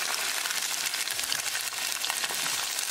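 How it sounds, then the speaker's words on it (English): Garlic and green chili frying in a pan beside tofu, a steady close sizzle and crackle that runs without a break, with no talking. "Cook garlic and green chili on the side."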